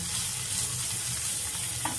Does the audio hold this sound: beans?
yes